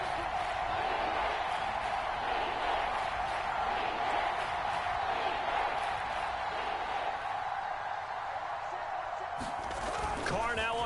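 Kansas City Chiefs home stadium crowd on a third-and-goal football play, a loud, dense, sustained roar of thousands of fans filling the background beneath a broadcast commentator's voice.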